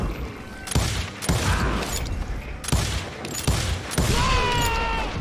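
Video game gunfire from a group of hired guns, rapid bursts of loud shots and booms repeating in clusters, with no talk over them.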